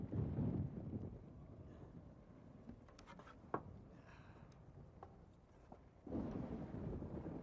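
A thunderstorm with a low rumble of thunder, loud at the start and again near the end, and quieter wind and scattered crackles in between.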